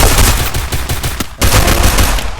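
Rapid automatic gunfire crackles loudly and close in a battle royale shooter game, a dense burst of shots, a brief gap, then more fire.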